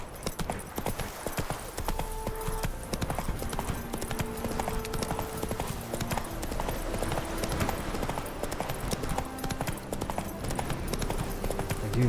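Roach the horse's hooves clip-clop in steady rhythm in the video game Witcher 3, close and continuous under soft background music.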